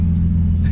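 A Nissan 350Z with a loud aftermarket exhaust gives a deep, steady rumble at close range, a brief continuous drone with no voices over it.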